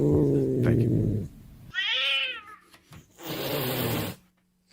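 Cats meowing and caterwauling over a radio broadcast, a drawn-out wavering yowl followed by another burst of cat cries, loud and close, with a brief lower voice-like stretch at the start.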